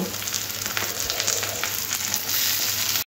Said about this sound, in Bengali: পেঁয়াজটা একটু ভাজা ভাজা হয়ে গেলে দিয়ে দেবো এখানে কেটে রাখা আলুগুলো